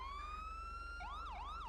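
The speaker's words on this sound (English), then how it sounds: "it comes with whatever siren you have" Police car siren from the GTA V LSPDFR mod, a steady rising wail that switches into fast warbling yelps partway through, clear over a low constant hum.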